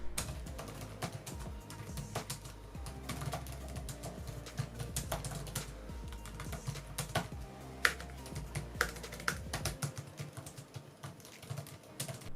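Rapid typing on an Acer Swift 5 2020 laptop keyboard, a dense stream of light clicks and taps close by with occasional louder keystrokes.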